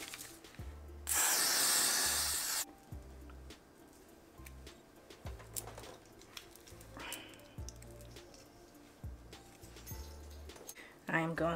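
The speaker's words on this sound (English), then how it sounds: "I am going to spray." A single long hiss of aerosol hair spray lasts about a second and a half, close by, during a lace front wig install, followed by quiet handling sounds and soft low thumps.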